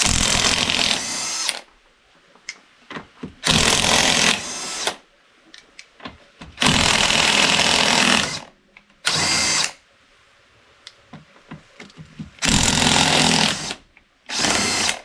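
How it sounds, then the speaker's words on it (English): A cordless impact wrench with a 17mm socket spins off lug nuts on a 2022 Can-Am Commander 1000R wheel, loud rattling bursts of a few seconds each separated by quiet gaps and small clinks, close by. "You can do it without an impact, whatever you want to do, but I got an impact."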